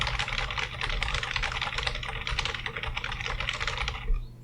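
Rapid, steady typing on a computer keyboard while filling in a web form, a dense run of close keystrokes that continues without pause for about four seconds.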